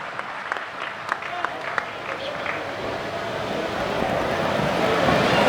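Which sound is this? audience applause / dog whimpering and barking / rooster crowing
audience applause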